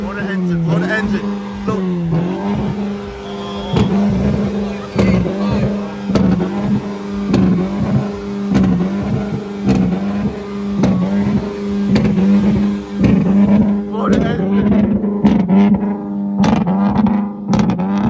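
A car engine revs loudly at a car meet between Connecticut and Massachusetts crowds, with a steady idle drone broken by sharp, repeated throttle blips while people talk nearby.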